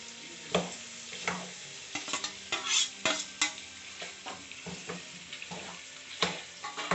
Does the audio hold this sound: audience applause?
no